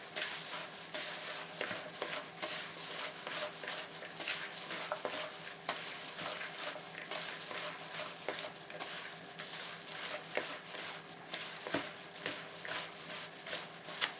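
Gloved hands kneading and tossing a Thai green mango salad with minced pork, a steady close wet squishing and stirring texture with soft rustles, no talk.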